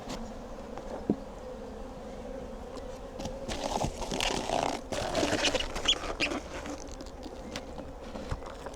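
A steady hum of many honey bees, with drones flying, buzzes close by at an open hive, swelling louder in the middle, with occasional soft knocks and rustles.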